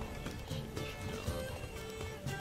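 Horse galloping with a neigh in The Witcher 3 video game, a fast steady rhythm of hoofbeats with a whinny rising over a busy game soundscape.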